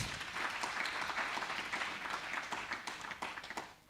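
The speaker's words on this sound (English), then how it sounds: "Give her a round of applause." A conference audience at an investment panel event in Kenya gives steady applause, a moderately distant wash of many hands clapping that holds evenly for several seconds.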